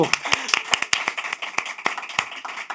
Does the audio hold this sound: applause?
yes